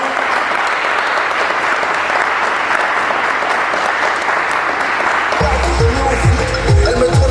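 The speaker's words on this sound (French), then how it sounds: "Sous vos applaudissements, s'il vous plaît, mesdames et messieurs." Sustained, loud applause from a conference audience fills the hall, steady hand-clapping that gives way near the end to someone speaking.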